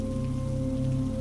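Rain falling at night, a soft continuous patter under a steady low tonal hum, even and unbroken throughout.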